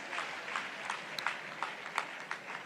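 Applause from a church congregation during a worship service, scattered soft clapping with periodic sharper bursts, fairly faint and steady throughout, with no voices over it.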